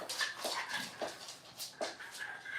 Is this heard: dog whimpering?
yes